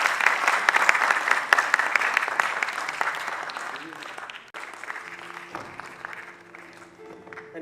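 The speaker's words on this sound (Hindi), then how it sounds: "जोरदार तालियां फॉर आवर डिग्निटरी।" Audience applause for a dignitary at a ghazal album launch event rises as a loud, dense clapping wash, then gradually fades while a faint musical tone and background murmur come through.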